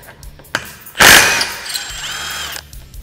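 A power tool loosens a 15 mm bolt where a cage mounts to the frame of a Can-Am Commander UTV. It gives a loud, close burst of about a second and a half, followed by a fading whir and a few clicks.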